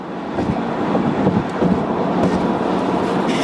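Inside a Trenton commuter train, a steady, loud rolling rumble fills the car, with faint clicks from the rails and no speech.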